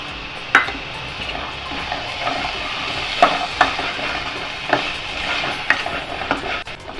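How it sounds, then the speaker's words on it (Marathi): Steamed yellow chickpeas are stirred and sautéed with masala paste in a pan, a steady sizzle under repeated spoon scrapes and occasional clinks against the metal. "हे पण एक दोन मिनटं आपण परतून घेऊ मसाल्याबरोबर"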